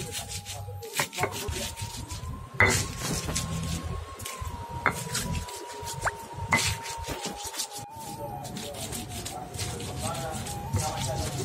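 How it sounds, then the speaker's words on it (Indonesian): Chilies are ground with salt, giving repeated scraping and rubbing strokes with occasional sharp knocks under a steady background hum, while a person talks over the work. "Guna garam dalam menggiling cabai agar cabainya cepat halus ya"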